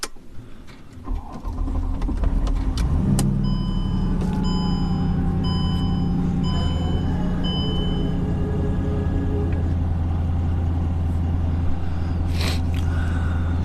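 Mercedes CLK55 AMG starting up: after a quiet moment the engine catches and settles into a steady low idle rumble, accompanied by repeated electronic dashboard chimes and beeps, close and moderately loud.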